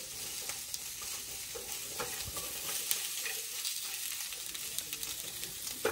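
Small potatoes frying in a pan give a steady close sizzle, broken by occasional stirring scrapes, with no voices.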